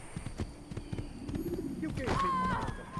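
Horse hooves clip-clop in the Assassin's Creed video game, a run of quick hoofbeats with a brief whinny-like tone near the end, heard over in-game ambience.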